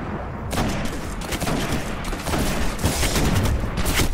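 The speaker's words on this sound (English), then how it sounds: "Can't do it when I'm getting shot at" Sustained gunfire in a Destiny Crucible match, rapid overlapping shots and bursts that come loud and close, running continuously for several seconds with occasional heavier booms, no talking.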